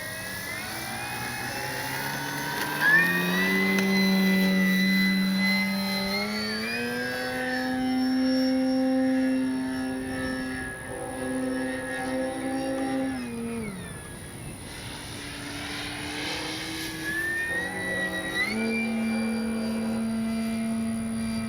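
A 3X Flex RV8 60E electric RC airplane flies overhead with a steady whine that rises and falls in pitch as it passes and banks, loud and continuous throughout.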